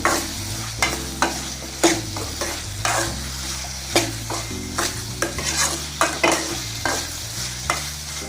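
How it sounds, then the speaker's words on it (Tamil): Taro root (colocasia) sautés with onion and tomato in a pan for a pepper sambar, a spatula scraping and stirring in regular strokes over a steady close sizzle, with no voices. "சேப்பங்கிழங்கு போட்டு நல்லா ஒரு 5 நிமிஷம் இதில் வதக்கிக்கலாம்."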